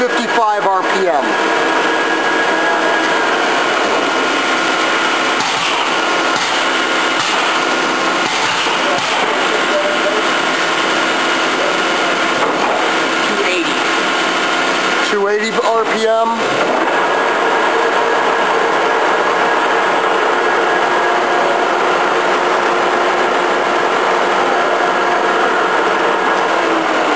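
A Lucas table-type horizontal boring mill turning at 55 RPM in its medium speed range, producing a loud, constant mechanical hum and whine with a brief clattering burst partway through.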